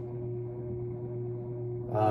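Steady low hum from a Sears Lasko Turn of the Century 52-inch ceiling fan motor, a constant tonal drone unchanging throughout, before a brief brighter rustle at the very end.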